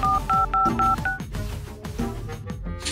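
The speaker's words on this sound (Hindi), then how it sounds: "अपने घर फोन कर।" A phone number is punched in as a run of sharp touch-tone beeps, about five quick even tones, followed by a dense, busy electronic jumble.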